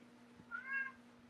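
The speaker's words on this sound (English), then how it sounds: "The cat was meowing." A cat gives a single short meow, faint and fairly close, over a low steady hum in a quiet room.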